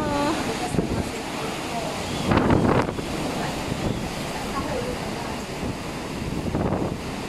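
Strong typhoon wind buffets the microphone in a steady roar, with waves and surf surging beneath and louder gusts rising briefly; a voice can be heard faintly in the din.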